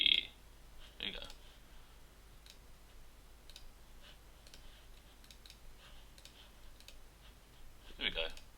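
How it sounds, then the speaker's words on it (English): Computer mouse shift-clicking items into a storage sorting system, heard as a few sharp clicks near the start, around the first second and again near the end, over a faint steady background. "Shift clicking helps."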